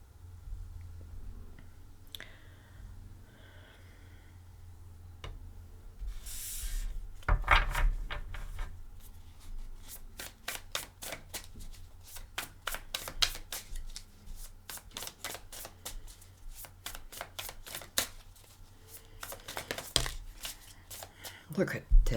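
Tarot cards riffled and shuffled by hand, a long run of fast crisp card flicks and slaps after an earlier softer handling of the deck, close and fairly loud, with a quiet voice at times.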